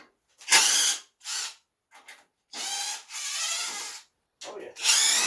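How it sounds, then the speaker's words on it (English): Bursts from a Craftsman V20 lithium 1/4-inch impact driver removing bolts on a Toro snowblower, several short loud runs separated by brief pauses, close by with no talking. "Got myself Craftsman V20 lithium. It's like an impact driver, 1/4 inch."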